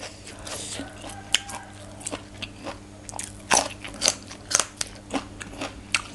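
Fresh raw white shrimp crunch loudly between the teeth in close, repeated bites with wet crackles, eaten alongside papaya salad with stink beans and herbs.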